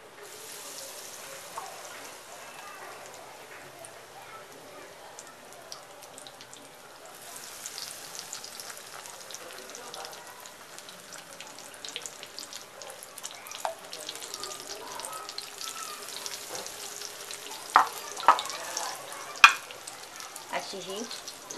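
Eggplant bhaji fritters deep-frying in hot oil, a steady soft sizzle that grows busier partway through as more batter goes in, with a few sharp clinks and splashes near the end.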